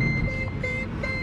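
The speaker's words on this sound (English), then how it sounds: "Beeping sounds are annoying." A vehicle's electronic beeps repeat in a steady pulse, several short tones against a rumbling background outdoors, moderately loud with no talk.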